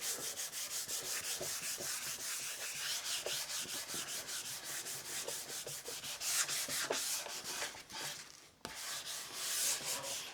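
Steady abrasive rubbing on the finished body of a Flying V electric guitar, a continuous hissy scrubbing with rhythmic back-and-forth strokes, close and fairly loud throughout with no talking.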